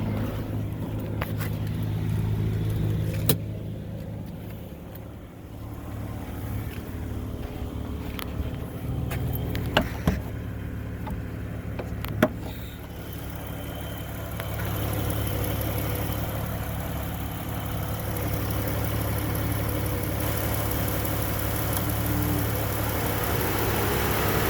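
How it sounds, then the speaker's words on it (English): The engine of a 2010 Dodge Grand Caravan idles steadily as a low, even hum heard from close range, with a few brief clicks and a slight change in tone partway through. "Let's listen to the engine."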